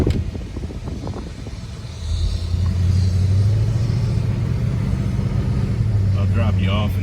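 Ford Torino with a 351C V8 and Sniper EFI drives along, its loud, steady engine rumble rising in level partway through and holding near and strong under bits of talk.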